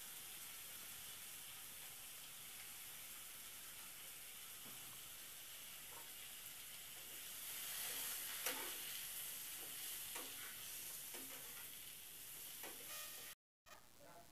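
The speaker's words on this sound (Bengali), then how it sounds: "একটু নুন দিয়ে দেব আর একটু হলদির গুঁড়ো দিয়ে দেব, দিয়ে ভালো করে আলুটাকে ভেজে নেব।" Potatoes fry with salt and turmeric in a pan, a steady soft sizzle and hiss that swells midway with a few stirring scrapes and clinks, close and alone without talk.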